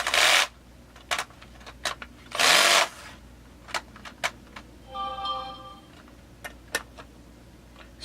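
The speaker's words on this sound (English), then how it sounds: "So the oil pump screws, M4 by 12." Oil pump screws, M4 by 12, are driven into the crankcase of a Stihl MS440 chainsaw, producing scattered sharp ticks and clicks, a few short scraping bursts and a brief whirring rattle. No one speaks.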